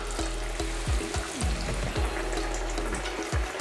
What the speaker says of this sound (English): The initial fry doesn't have to be quite as hot as the second fry because this one's more like the cooking action.